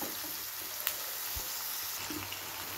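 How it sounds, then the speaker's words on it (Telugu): Drumsticks and onions cook together in a pan, a steady close sizzling hiss with small crackles and a faint utensil tap, continuous and even throughout with no talk. "ములక్కాయని ఉల్లిపాయలు కలిసి మగ్గిపోతాయి"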